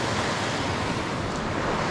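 River water in the Ardèche, a loud, continuous broadband rush of flowing water heard close by at a riverside rock, steady with no other sounds.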